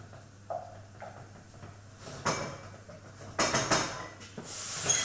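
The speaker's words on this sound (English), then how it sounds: "Give that a quick stir." A spoon stirs a creme fraiche sauce for malloreddus and squash in a pan, giving several close clinks and scrapes against the metal with quiet gaps between, no talking.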